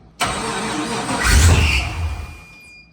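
A flood-damaged 1967 Corvette pro touring V8 turns over loudly close up, a burst of cranking and engine roar that swells for about a second and then fades, with no voices.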